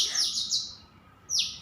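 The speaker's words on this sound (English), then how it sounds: "They are relentlessly chirping from every tree." Several bright bird chirps ring out from trees, a quick run of high tweets followed by a pause and another clear call, fairly close and alone.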